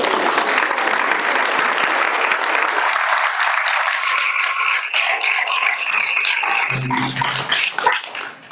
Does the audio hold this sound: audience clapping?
yes